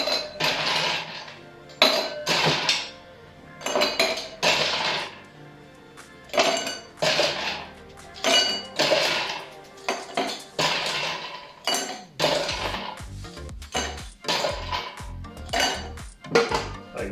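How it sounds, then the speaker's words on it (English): Ice cubes clink and clatter one after another into a large cocktail glass for a Suze spritz, a steady run of sharp, close knocks and rattles with no talking. "It's better to have slightly more voluminous glass so you can fill it well with ice cubes."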